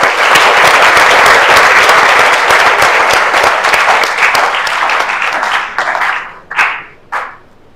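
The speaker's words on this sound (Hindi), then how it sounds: "इसके लिए ताली बजनी चाहिए।" Audience applause for a student Android app presentation, dense and steady for several seconds before thinning out to a few final scattered claps.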